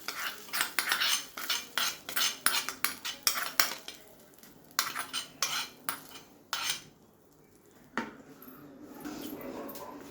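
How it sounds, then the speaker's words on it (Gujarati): A spoon mixing potato vada filling with curry leaves, a rapid run of scraping and clinking strokes against the pan, then a pause and a few more strokes, close and fairly quiet. "હવે આપણે આ બધું મિક્સ કરી લઈશું।"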